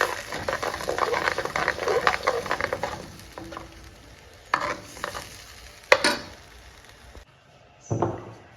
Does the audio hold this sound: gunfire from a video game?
no